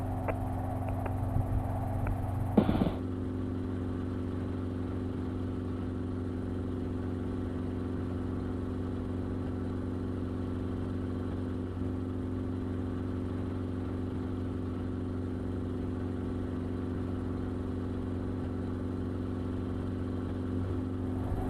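A helicopter engine and rotor in flight over Dodger Stadium construction in Los Angeles make a steady, loud droning hum from inside the cabin, with an unchanging tone throughout after a brief burst of other sound at the start.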